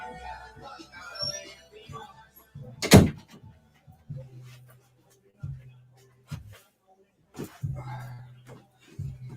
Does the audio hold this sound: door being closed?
yes